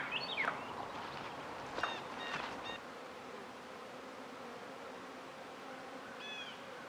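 Honeybees buzz around a beehive in spring near an electric fence, a steady close drone with a few louder bees whizzing past near the microphone.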